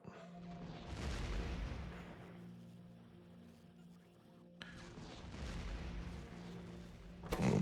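Turrets fire in Factorio, a heavily modded K2SE factory game, producing dense rumbling bursts of rapid gunfire that swell, fade briefly, then return with a sharp crack near the end, fairly quiet overall.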